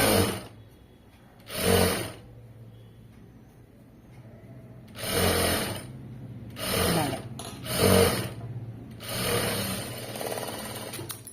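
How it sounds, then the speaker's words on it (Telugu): A sewing machine runs a straight stitch along cloth in several separate bursts of steady needle chatter, with quiet pauses between runs. "ఇప్పుడు దీని మీద ఇలా పెట్టేసుకుని ఇలా స్ట్రేట్గా స్టిచ్ చేసుకుంటూ వెళ్ళిపోవాలి"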